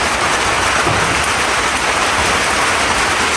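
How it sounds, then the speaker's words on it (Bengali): Heavy rain pours down in a steady, dense hiss that stays loud and unbroken throughout, with no voices. "মা ঝমঝম বৃষ্টি চলে আসছে।"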